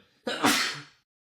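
One loud, close human sneeze from allergies, a sharp intake followed by an explosive burst that trails off quickly.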